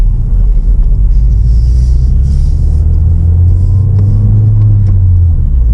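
Ford Fiesta ST engine while driving, a loud, steady low rumble heard from inside the cabin, with a slight rise in pitch midway and faint rattles, no talking.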